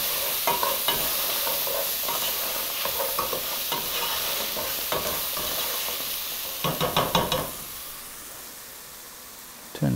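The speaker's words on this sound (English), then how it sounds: "I'm gonna kind of stir that up a little bit." Minced garlic and ground black pepper sizzle steadily in a hot pan while a utensil scrapes and stirs, with rhythmic clacks and a quick cluster of taps near the end, close and fairly loud.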